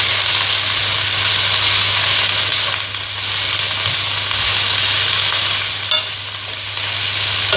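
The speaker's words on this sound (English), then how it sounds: "Steam fry. It continues the cooking without adding more fat." Salmon and stir-fry vegetables with parsley steam-frying in a pan give a steady, loud broadband hiss and sizzle that runs unbroken throughout, with slight dips and swells and no voices.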